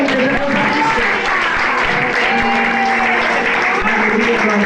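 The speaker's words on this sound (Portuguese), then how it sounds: "Aplauda o Senhor, Deus abençoe." Church congregation applauding together, a steady wash of clapping that holds loud through the moment with a few voices calling out underneath.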